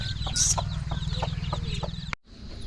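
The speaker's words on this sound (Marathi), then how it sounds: "ही आमची कोंबडी" A hen at home clucks in a quick, steady rhythm of short low calls, close and fairly loud, with a brief higher squawk near the start and no talk.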